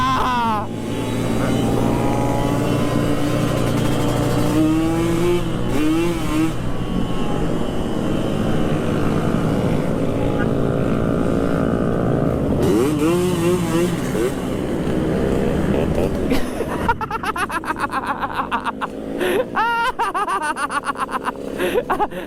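A Yamaha RX King two-stroke motorcycle engine revs loudly and close, rising and falling in pitch through repeated blips, with bursts of laughter and voices over the engine noise.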